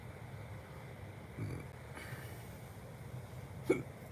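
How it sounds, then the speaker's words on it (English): A person hiccuping after eating too quickly, a single sharp hiccup near the end against a quiet indoor background with faint rumble, after a couple of softer earlier sounds. "I got hiccups."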